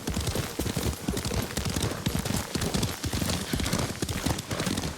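Horse hooves clip-clop in rapid, steady rhythm as a horse is ridden in Ghost of Tsushima, the close, thudding beats running continuously with faint wind and ambience behind them.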